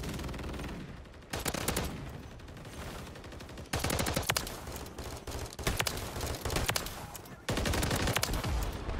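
Rapid shotgun blasts from the Call of Duty MW3 video game, loud repeated bursts in dense clusters with brief pauses between volleys.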